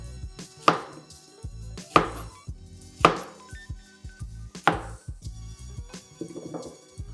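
A knife chops green plantain into pieces on a board, four or five sharp distinct cuts spaced about a second apart, close and isolated with quiet in between.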